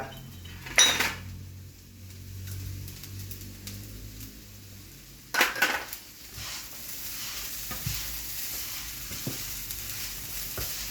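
Vegetables stir-fried in a pan for shrimp fried rice, with a couple of sharp clanks of a utensil against the pan and a low sizzle and scraping running underneath, fairly quiet and close.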